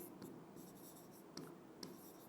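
Chalk or marker strokes on a board during a Hindi-language class lesson, with short scratchy bursts and a few sharper taps, faint and close, with no talking.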